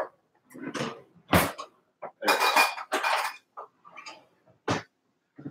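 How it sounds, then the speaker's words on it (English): A scooper digs into a tub of vanilla ice cream, giving several separate scraping and clinking bursts with short pauses between them, all close by. "So I'm just going to scoop out some ice cream."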